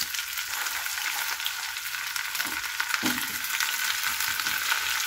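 Chicken pieces frying in a pan with garlic for lechon paksiw, giving a steady, even sizzle throughout with a couple of soft stirring knocks and no talking.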